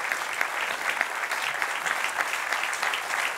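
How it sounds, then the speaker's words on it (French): Dense, lively applause from an audience at a prevention event, steady and fairly close with a few sharper individual claps standing out. "Ne vous arrêtez surtout pas d'applaudir"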